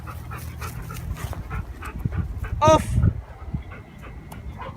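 A police K9 dog pants and lets out a brief whimper close by during leash work at night, while a handler speaks commands over it.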